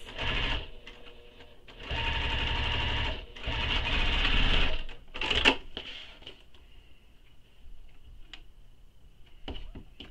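A sewing machine stitches a tote bag in long continuous bursts, a loud rapid clatter with short pauses between runs, followed by quieter clicks and faint handling noises.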